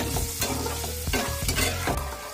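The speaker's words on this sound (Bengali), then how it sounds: "এদিকে কিন্তু আমার আলু লাল লাল ভাজা হয়ে গেছে।" Potato pieces fry in hot oil in a home kitchen, giving a steady, close, crackling sizzle broken by a few louder spattering bursts, with no talking.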